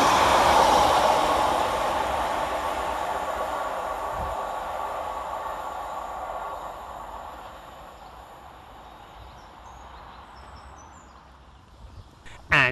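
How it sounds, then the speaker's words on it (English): A Transport for Wales passenger train rumbles through a station without stopping, with a broad, steady roar that slowly fades as it pulls away, ending with a few sharp clanks. "Next up to pass through the station is 231007."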